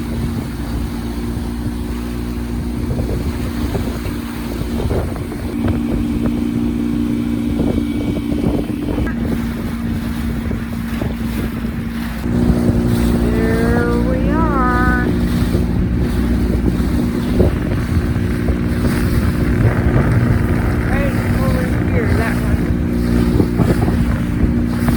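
A dinghy motorboat rides out into the wind around Key West, with a steady outboard engine hum under heavy wind buffeting on the microphone and water rushing past, loud and continuous throughout.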